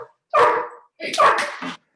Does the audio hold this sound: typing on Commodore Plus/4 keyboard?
no